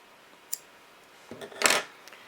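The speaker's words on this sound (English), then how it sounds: "Trim the ends off." Scissors trim the yarn ends of a small crochet reindeer ornament, giving a couple of sharp close snips, one early and a louder one near the end, over near silence.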